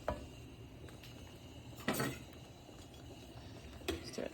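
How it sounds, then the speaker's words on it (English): Creamy sausage penne is stirred in a pot, with a quiet scrape and soft clinks of a utensil against the pot, two louder knocks standing out over a low kitchen background. "Just stir it a little more, like a minute more."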